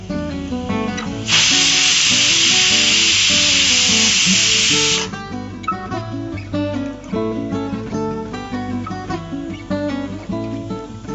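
A pressure cooker whistles loudly for about four seconds, a steady hissing blast of steam, while cooking for a masala papad recipe. Background music plays throughout, and after the whistle stops the music continues alone.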